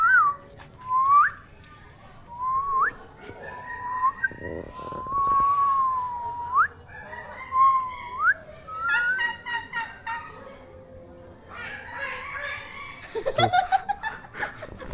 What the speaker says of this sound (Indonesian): Banyak banget suara monyet.